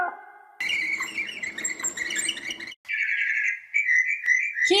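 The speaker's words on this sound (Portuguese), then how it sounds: "Excelente! Um pássaro." A bird chirps and trills in a busy run of bright, high calls, then sharper single whistled notes, close and alone with no voices.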